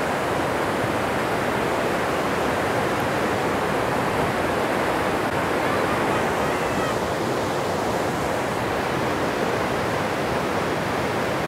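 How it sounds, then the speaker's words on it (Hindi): Fast water rushing beneath an open gate on the long IGNP canal makes a steady, loud, broadband roar that holds without a break throughout. "अब इसके नीचे से जो पानी गुजरता है ना, उसकी रफ्तार देखो आप क्या है, बहुत तेज रफ्तार के साथ पानी यहाँ से जा रहा है।"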